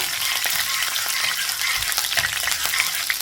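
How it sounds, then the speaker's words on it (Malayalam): Popped mustard seeds, curry leaves and chopped green chilies fry in oil for a sweet mango and date pickle, a loud, continuous hissing sizzle with crackles, close up and without speech. "കടുക് പൊട്ടിയതിലേക്ക് ഒരു രണ്ട് തണ്ട് കറിവേപ്പില ഇട്ട് കൊടുക്കുക"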